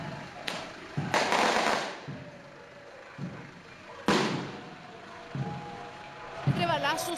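Fireworks bang during a funeral procession for a leader of an autonomist group, sounding as several sharp broadband cracks spread across the scene, with crowd noise and talk in between.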